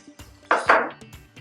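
Braised-fish condiment stirred in a pan: a few close clinks and a pair of bright scraping metal strokes, brief and isolated against quiet.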